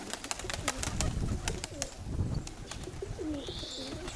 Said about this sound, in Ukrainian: Ну, я вам щось показую там голубів загалом.